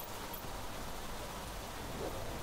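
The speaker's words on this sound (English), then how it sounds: "Heavy rain." Heavy rain in The Planet Crafter video game pours down in a constant close wash of patter and hiss, unbroken across the short stretch, without speech.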